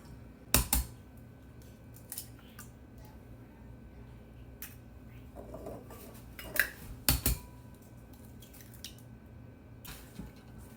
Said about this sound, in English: And we're going to add 6 eggs